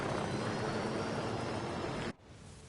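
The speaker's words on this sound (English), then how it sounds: "Good hit on the helo." A helicopter in Ghost Recon Wildlands drones loudly and steadily as a continuous engine and rotor roar, then cuts off abruptly near the end, leaving a faint residual hum.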